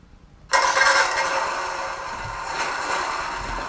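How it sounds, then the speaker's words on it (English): An Elmod RC sound unit in a Torro M16 half-track model plays a simulated engine start: sudden onset after a short quiet, then a steady idling rumble from a small speaker, close and moderately loud. "That's engine started"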